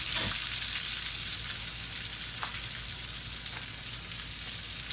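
Catfish for tacos fries steadily in hot oil, a close, even sizzle with a few sharp pops running through all five seconds, no voices.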